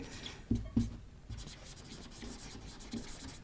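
A pen writing the word English in capital letters on a board, with a few soft scratchy strokes close by and faint speech in the background.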